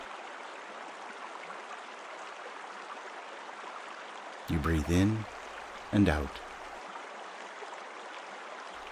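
Steady bubbling and churning of river water flows as a constant near wash throughout, with a calm voice speaking briefly over it midway.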